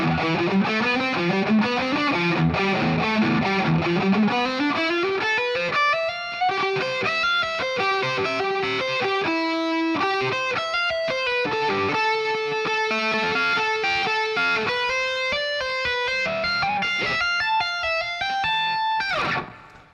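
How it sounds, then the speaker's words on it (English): A distorted lead electric guitar plays a slow, singing melodic line over a chugging rhythm guitar track, loud and sustained for twenty seconds, ending in a final flourish. "the lead that I put over it sounds like this."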